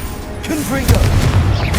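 A Confringo blasting spell going off in the Hogwarts Legacy video game, a short booming explosion following a brief spoken cast, with low rumble trailing after it.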